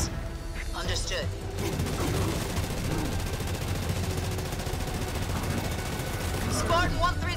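Ground troops fire on a Spartan unit in Halo Wars 2, dense gunfire and booming rattling continuously beneath radio-style voice chatter, with brief bursts of talk at the start and end.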